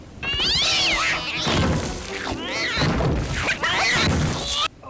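A cat yowls in a scene from the horror film Eight Legged Freaks, giving several loud, drawn-out wavering cries close up, with a crash or thud mixed in.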